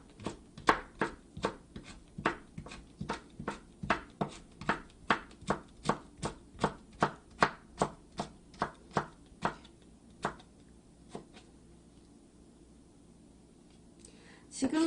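A knife cuts a peeled cucumber into thin 0.2 cm strips in quick, even taps on a cutting board, about two per second, then slows to a few scattered cuts and stops, with a voice speaking quietly over it.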